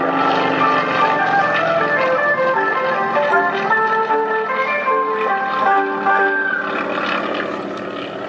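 A Nanchang CJ propeller aircraft flies at the Hamilton Airshow 2011, its engine giving a loud, steady droning buzz that holds for several seconds, then fades slightly at the end.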